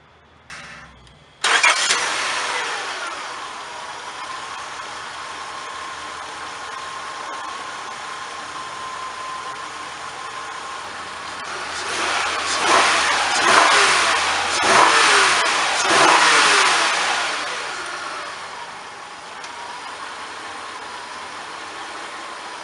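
A 3.0-litre V6 in a Honda Accord or Acura TL cranks and fires at about two seconds, then settles into a steady idle before a couple of louder revs mid-way that fade back to idle.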